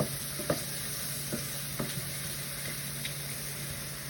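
Regular white mushrooms brown in a pan over medium heat, giving off a steady close sizzle with a few light clicks and taps from the pan.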